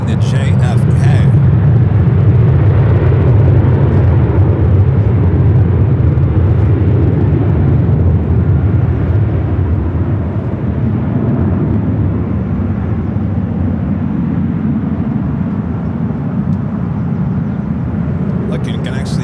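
A Boeing 767 arrives on the north side at Los Angeles LAX, a loud, steady roar of jet engines that holds for nearly twenty seconds, with brief bursts of other noise at the start and end.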